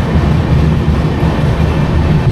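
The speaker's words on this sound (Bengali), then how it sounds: "আমাদের ট্রেন ছেড়ে দিল বালাসোর স্টেশন" The Howrah–Puri Superfast Express pulls out of Balasore station with a dense, loud low rumble, rail noise droning steadily without distinct horn blasts.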